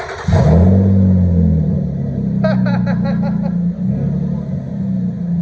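An Infiniti G35 with its muffler deleted and a straight cat fires up and settles into a loud, raspy idle with a brief rev, close by, while a voice talks briefly over it.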